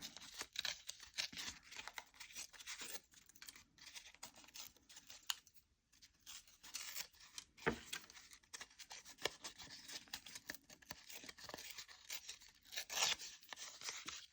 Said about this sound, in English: I'm going to tear around these straight edges and get more of a rough texture